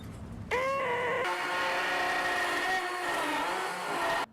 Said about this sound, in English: there's really nothing else to do other than just start routering